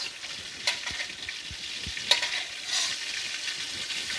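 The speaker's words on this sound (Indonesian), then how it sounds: "minyaknya untuk menumis bumbu halus" Ground spice paste sautéing in hot oil for Indonesian fried rice noodles (bihun goreng), a steady close sizzle with occasional sharp spatters and faint stirring scrapes, no talking.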